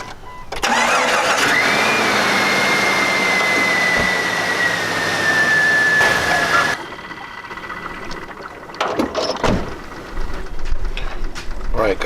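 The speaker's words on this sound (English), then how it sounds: "So I'm going to start it up, and let's see if we have any leaks." A 2000 Jeep Cherokee engine, just back together after a water pump replacement, cranks and starts, then runs with a loud steady roar and a whining tone before the sound drops and clatters.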